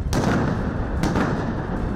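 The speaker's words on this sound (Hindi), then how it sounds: "बर्फ के बने पुतले यानी विंटरमैन को धमाके के साथ उड़ा दिया गया" A snowman-shaped winter effigy standing on a pile of hay beside a mountain river in the Alps is blown up during an annual ritual. The blast roars loud and continuous, with a sharp crack near the start and another about a second later.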